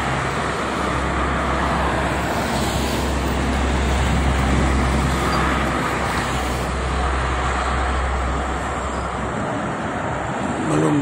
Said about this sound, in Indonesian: Pagi ini arah Jakarta itu ramai sama truk barang.